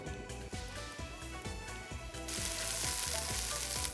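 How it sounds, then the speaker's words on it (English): Shimeji mushrooms frying in oil left from frying garlic and ginger, a steady close sizzle with rhythmic stirring knocks, the crackle swelling brighter and louder partway through. "I'm going to cook the mushrooms. So earlier we are frying the garlic and the ginger, so I'm going to use the same oil."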